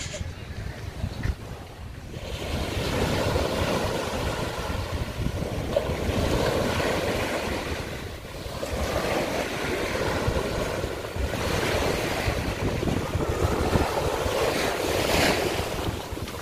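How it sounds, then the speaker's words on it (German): Rough sea surf rolls and breaks on a beach at Malapascua, Cebu, in repeated loud swells with gusty wind buffeting the microphone and no one speaking. "das ist hier ein bisschen rau, das Meer, wunderschön"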